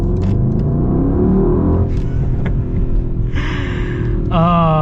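A 2022 Mercedes-AMG GLE 63 S engine rumbles steadily and rises as it accelerates, with a throaty exhaust note throughout and a brief rev near the end.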